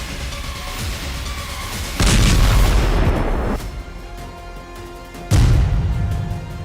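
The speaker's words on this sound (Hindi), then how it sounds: "आईडीएफ की तरफ से इस बिल्डिंग पर एक जोरदार टैंक हमला किया गया और पल भर में बिल्डिंग जमींदोज हो गई" Israeli tank strike on a building, heavy booming blasts: a sudden loud broadband burst around two seconds in that rumbles on, then a second powerful boom near the end, no voices.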